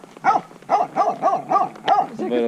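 A dog barks several times in quick succession, close and loud, a rhythmic run of about six sharp barks ending in a short whine.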